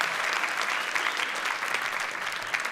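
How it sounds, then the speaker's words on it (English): Continuous audience applause at a live show, thick even clapping from a large crowd filling the whole stretch without any speech. "as soon as he comes through, give him a round of applause"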